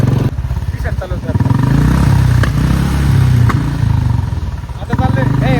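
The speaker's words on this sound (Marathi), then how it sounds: "मित्रांनो हे पाहू शकता आम्ही आज बुलेट चालवतोय." A Royal Enfield Bullet motorcycle thumps along while riding, a steady low rhythmic engine beat running close under people talking.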